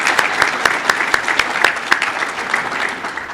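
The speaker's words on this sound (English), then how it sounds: "You can clap." A chamber of commerce annual meeting audience claps for staff being thanked, a steady bed of applause punctuated by sharp, regular nearby claps that gradually thins toward the end.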